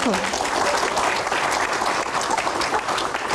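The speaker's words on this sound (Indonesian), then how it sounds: "Tepuk tangan dulu." A studio audience at an Indonesian Q&A show bursts into dense, sustained applause that stays steady and loud for the whole stretch, with a brief voice at the start.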